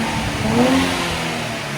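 Stock-exhaust 2024 Nissan Z with its 3.0L twin-turbo V6 blipped from idle, the engine note climbing into a short rev then easing back to a steady hum, close and fairly loud.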